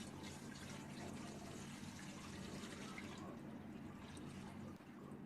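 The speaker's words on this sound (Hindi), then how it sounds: "ढोकले बनाने का कुकर लिया है, इसमें हम आधा पानी डाल देंगे।" Water poured steadily into a dhokla steamer cooker, filling it halfway for steaming ragi and rice flour papad dough; a continuous close splashing rush that thins slightly toward the end.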